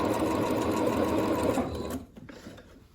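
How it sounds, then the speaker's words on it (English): A sewing machine runs fast and steadily along a pant seam, a close rapid mechanical whir that stops abruptly near the end, leaving faint handling noise. "I start sewing the entire seam on the front"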